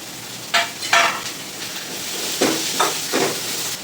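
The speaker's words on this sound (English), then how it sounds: "To this I am going to add all the vegetables and saute the vegetables." Vegetables sautéing in a pan for sambhar, a steady sizzling hiss with several short bursts of stirring scrapes, close and fairly loud, with no talking.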